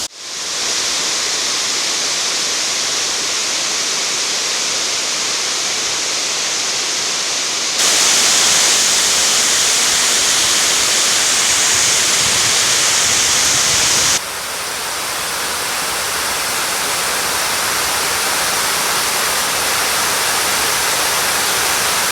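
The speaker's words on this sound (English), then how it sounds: "it looks like it's overflowing a little bit heavier than what we've just been looking at" Water pouring over the overflow of Derwent Reservoir dam makes a loud, continuous rushing roar that fills the clip, shifting in intensity partway through but never letting up.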